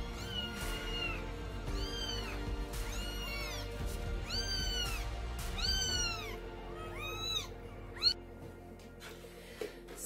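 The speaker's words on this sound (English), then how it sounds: "Here are my kittens" Several kittens meow repeatedly in high, rising-and-falling calls at close range, overlapping in quick bursts and thinning out toward the end, with no talk.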